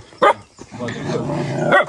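Dogs yelp and bark in short bursts at the start and end of a brief outdoor moment, mixed with a muffled, voice-like whine in between.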